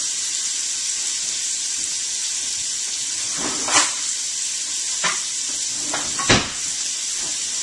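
Steady, loud sizzling hiss of steak searing in a small, very hot frying pan, broken by a few sharp clanks and scrapes of a utensil.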